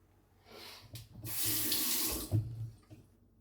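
Water splashes from a tap into a sink during a wet shave, a close, steady rush lasting about two seconds with a small splash near the end and no voices.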